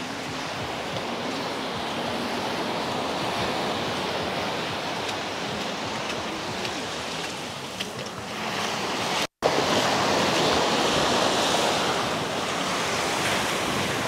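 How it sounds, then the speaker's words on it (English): Ocean surf rolling onto a beach at Gulf Shores, Alabama, a steady loud broadband wash of breaking waves with wind buffeting the microphone, briefly cut out midway before resuming. "this is like right where the surf is really coming in"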